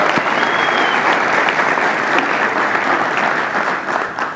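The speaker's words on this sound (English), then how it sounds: "So I do want to give Software for Good a round of applause" Sustained audience applause at a community software project presentation, dense steady clapping filling the room for several seconds before easing slightly at the end.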